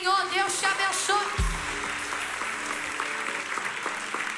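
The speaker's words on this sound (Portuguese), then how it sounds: "E a igreja aplauda ao Senhor" A church congregation applauds the Lord during a service, steady broad clapping filling the room with a low rumble and tonal voices or music mixed in near the start.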